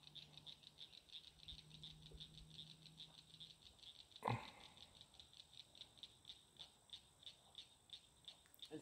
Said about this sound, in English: frogs are starting to chirp.